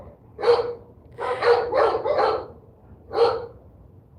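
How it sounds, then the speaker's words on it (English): Dogs bark outdoors at moderate distance, one single bark, then a quick burst of three, a pause, and another single bark. "Ah, the dogs."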